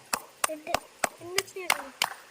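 Sharp hand claps ring out about three times a second beside a bubbling pond at Netravali wildlife sanctuary in South Goa, with people chatting between the claps.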